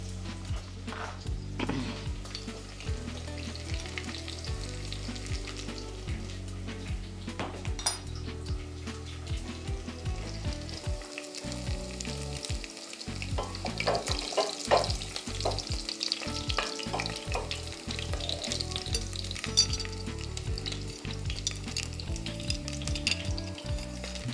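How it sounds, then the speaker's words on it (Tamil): Mustard seeds spluttering in hot oil for sambar, busy crackling and sizzling with rapid pops, plus stirring and clinks of a utensil against the pan, close up and without talk. "இதுக்குள்ளே நாங்கள் கடுகு கொஞ்சம் போடுவோம்."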